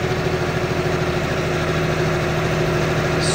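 John Deere 5405 tractor with a power upgrade runs steadily in D1 gear at about 1600 to 1700 RPM, a constant loud diesel drone with even low throbbing, close by and uninterrupted.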